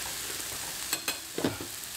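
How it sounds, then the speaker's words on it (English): Chilli con carne being stirred in a frying pan, a few soft scraping strokes and clatters over a steady low sizzle, close and fairly quiet. "Give that a stir."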